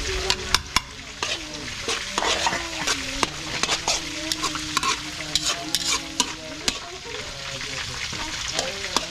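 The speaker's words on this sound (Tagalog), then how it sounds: "Kaya mga Abel, balikan natin pag naging golden brown na yung ginisa natin." Garlic and ginger sauté in hot oil in a pan with a steady close sizzle, while a utensil stirs and scrapes against the metal in repeated clinks and clatters.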